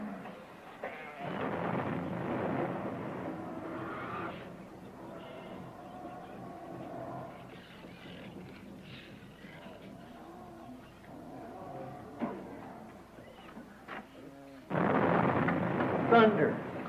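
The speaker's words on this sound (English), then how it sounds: "thunder." Rolling thunder in a Noah's Ark story, two loud rumbling bursts at the start and end with a quieter low murmur between.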